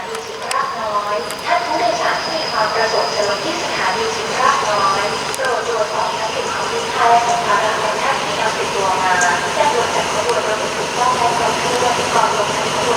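A morning train rolls through Chiang Rak Noi railway station in Thailand, a steady rumble of wheels and carriages for the whole stretch, with a horn-like tone, a dog barking nearby and occasional talk.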